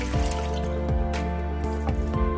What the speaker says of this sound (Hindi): अब इसमें 1 कप पानी डालें।